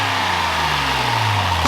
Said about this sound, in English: Are you guys ready to hear some revs with the new intake?